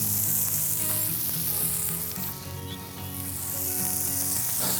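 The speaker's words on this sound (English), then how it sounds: "I like the flavor of grilled onions as opposed to raw onions" Onions for summer burgers sizzle on a grill, a loud, dense and continuous frying hiss that dips briefly in the middle, with no voices.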